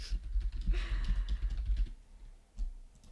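Soft, rapid clicking of keys on a computer keyboard, close and fairly quiet, pausing briefly before resuming.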